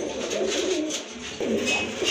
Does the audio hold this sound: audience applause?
no